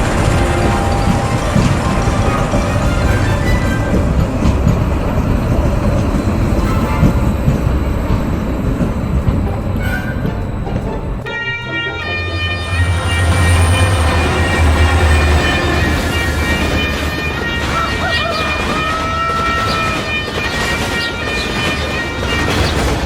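A locomotive train runs with a steady, dense rumble, and a sustained tonal whine rises over it partway through, loud and continuous.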